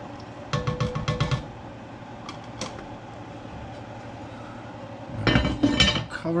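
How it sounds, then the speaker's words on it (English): A spoon stirring vegetables into beef stew in a pot, making bursts of scraping, clinking metal strokes at the start and again near the end, with a quiet pause between them. "So really we just want to stir in the vegetables."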